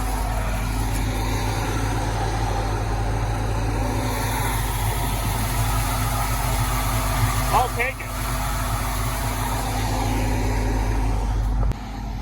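Single-axle grain truck engine running steadily nearby, a low continuous idle-like drone under brief talk from a person.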